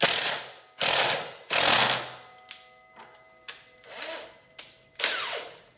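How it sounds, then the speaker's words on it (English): A large ratchet working a tight 24 mm nut on the rear hub of a Yamaha Raptor ATV: loud bursts of rapid clicking, then shorter, quieter ratchet pulls, close and with no talk. "put it in gear and use a big ass ratchet."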